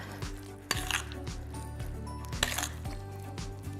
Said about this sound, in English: we're just gonna mix this up just a little bit